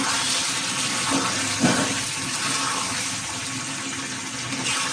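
Water is poured into a pot of chicken curry being cooked, giving a steady hissing, rushing sound with a brief splashy burst midway and no talking.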